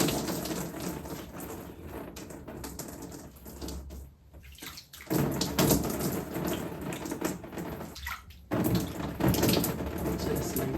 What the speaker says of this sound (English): just thoroughly rinse off the lather from your face